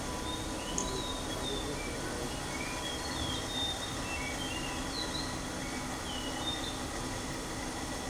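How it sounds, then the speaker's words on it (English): A blue whistling thrush, a winter migrant on a campus, sings faint, high whistled phrases scattered through a quiet recording, set against a steady background hiss. "So this is the song of blue whistling thrush"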